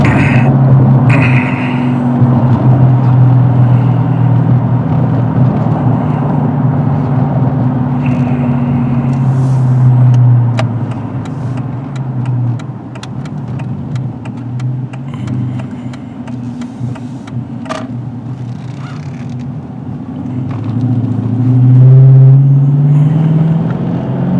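Steady low vehicle exhaust drone from a car being driven, loud and continuous with a few pitch swells as it accelerates, no voices present.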